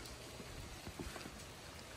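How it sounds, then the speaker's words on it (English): Heavy rain pouring onto a 2022 Ford Bronco Sport, a dense steady hiss of drops drumming on the car's surfaces, continuous and fairly faint with no voices. "It's pouring very, very hard right now."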